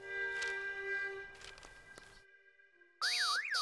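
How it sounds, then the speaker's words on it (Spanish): Cartoon alarm going off in an animated scene, a warbling electronic siren that bursts in loudly after quieter tonal effects and a short silence. "¡Apaga tu alarma!"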